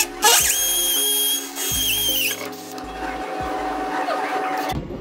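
A Dewalt hammer drill set to hammer mode drills into concrete, giving a loud, buzzing motor whine for over two seconds. A few shorter bursts and the scrape of the bit follow.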